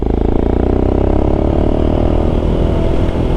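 A Royal Enfield Scram 411 motorcycle with a Zard exhaust pipe runs loudly and steadily, its deep, pulsing single-cylinder thump holding near and constant throughout while riding.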